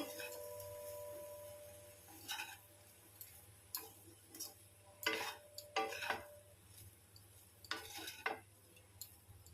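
Rice is stirred and mixed with vegetables in a frying pan, heard as faint, irregular scraping and clinking of a utensil against the pan over a low background hum.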